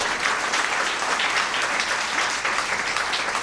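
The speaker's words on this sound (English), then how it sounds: "Can we do a big round of applause over that?" A crowd claps steadily, a dense, continuous wash of applause.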